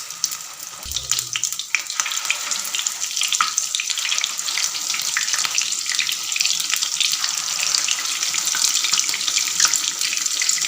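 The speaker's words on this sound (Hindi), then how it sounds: "अब हम इन्हें फ्राई करके आपको दिखाते हैं।" Minced-meat chapli kebabs, dipped in egg, shallow frying in oil in a pan over medium-low heat, giving a steady, continuous sizzle and crackle throughout with no talking.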